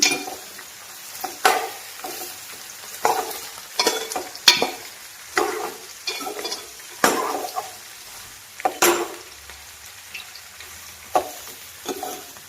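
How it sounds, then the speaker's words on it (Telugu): Pieces of bitter gourd are stirred in a pan and fry with onions and chillies, giving a steady low sizzle broken by repeated scraping, clattering strokes of the spoon against the pan. "ఇప్పుడు మనం కట్ చేసి పెట్టుకున్న కాకరకాయ ముక్కలు వేసేద్దాం ఇది ఒకసారి మొత్తం కలిపేసుకుందాము"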